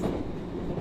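A 283 series Ocean Arrow Kuroshio express train rumbles along the rails, a low steady roar with rhythmic wheel noise, heard briefly from on board.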